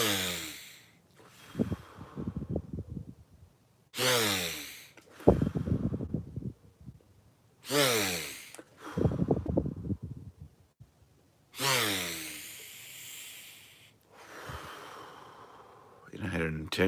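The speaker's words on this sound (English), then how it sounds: "I think 21 or 22 times of just breathing in like this." Deep breathing, repeated and deliberate. Long rushing inhales alternate with slower, rougher exhales in a steady cycle of about four seconds. The breaths sound close and loud, with no talking.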